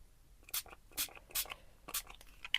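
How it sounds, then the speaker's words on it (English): Distress spray stain is misted onto paper in about five short, sharp, hissing pumps, quiet and close, with brief pauses between them. "I just haven't got it on me, so I'm using the distress spray instead."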